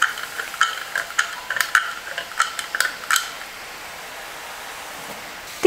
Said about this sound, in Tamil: நான் வந்து இப்போ நேராக எண்ணெயிலே வந்து முறுக்கு நான் செஞ்சுக்க போகிறேன்